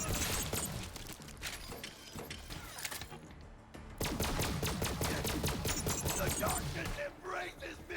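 Rapid in-game gunfire from Borderlands 3, a dense run of sharp shots crackling across the whole stretch with a brief lull in the middle, loud and busy with layered game effects.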